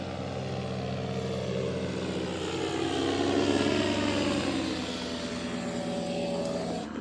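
A powered paraglider passes directly overhead above a forest campsite, its propeller engine droning steadily and loudly throughout with a slow rise and fall as it moves across the sky.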